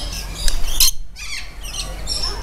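Birds at a feeding spot chirp and squawk close by in quick, repeated bursts, with a short quiet gap in the middle and no talking.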